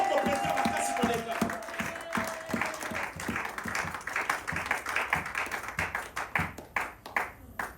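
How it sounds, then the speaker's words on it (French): Applause and cheering at a Sunday worship service in a church in Sherbrooke, Canada, with dense clapping early on that thins into scattered, rhythmic claps, mixed with crowd voices and a brief sustained tone near the start. "Il mérite Abongi penza. des grandes acclamations."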